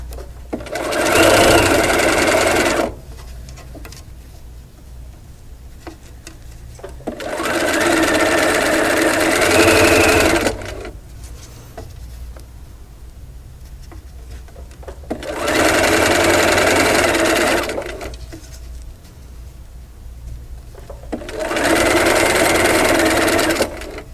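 Sewing machine stitching a quilt seam on a double wedding ring pattern, four long runs of loud, close whirring separated by quiet pauses.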